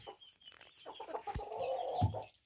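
Chickens clucking nearby in short, irregular bursts, a young bird among adult hens, with a couple of low thumps among the calls.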